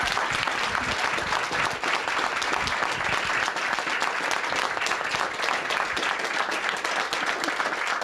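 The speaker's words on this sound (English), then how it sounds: "I just want to give yourselves a round of applause, all the incredible staff" Staff gathered for an NDP caucus event in Ottawa break into sustained, dense applause, loud and continuous throughout with a room-filling crowd wash and faint voices mixed in.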